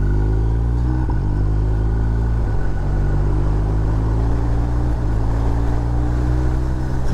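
A BMW R1250R boxer-twin motorcycle on a test ride pulls hard at low revs, a loud, steady rumbling engine drone with rising pitch as it accelerates, mixed with wind rush and no talking.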